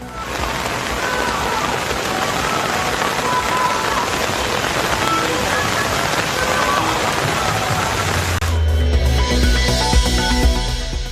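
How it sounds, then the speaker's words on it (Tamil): Heavy overnight rain on Tirupati hill pours down in a dense, continuous roar of drops, loud and close, shifting near the end to a deeper rushing with a low rumble. "திருப்பதி மலையில் விடிய விடிய வெளுத்து வாங்கிய கனமழை."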